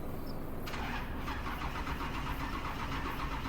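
A car engine in Farming Simulator 25 cranks over and catches, then settles into a steady mid-pitched idle, close and fairly quiet.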